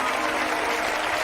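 Studio audience at a talk show bursts into a brief, dense wall of loud applause, many hands clapping at once in a continuous wash with no voices over it.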